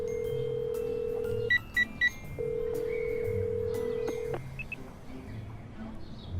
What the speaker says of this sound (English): With a deep sigh, I redial Valerie's number.